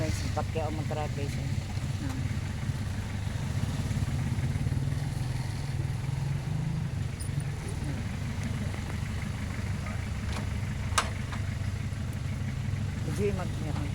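A motorcycle engine runs steadily nearby on a street, a low continuous rumble throughout with voices talking over it.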